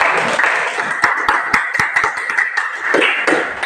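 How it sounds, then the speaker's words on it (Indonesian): Classroom audience applause after a student presentation on turning tempe into a tastier snack product, with scattered sharp claps ringing out over a steady crowd murmur. "Ya, bagus, beri aplaus."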